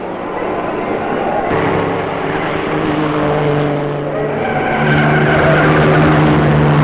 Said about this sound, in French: les voitures continuent de rouler sans cesse ou s'arrêtent pour ravitailler